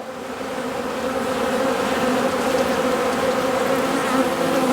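Honeybees swarm and buzz steadily around a brood frame lifted from a hive, a dense, close, continuous drone with no voices over it.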